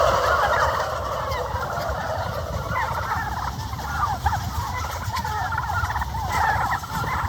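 Turkeys on a turkey farm gobble repeatedly in overlapping bursts near a running feed line, their calls loud and continuous over a low mechanical rumble.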